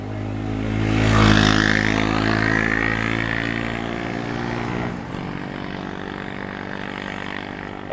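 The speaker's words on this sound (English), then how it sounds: "some of the bikes can be really loud, just like their engines" A loud motorcycle engine passes close by on a road in Da Nang. Its roar swells quickly to a peak, then slowly fades with a droning hum as the bike moves away.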